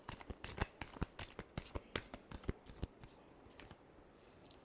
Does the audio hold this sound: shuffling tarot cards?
yes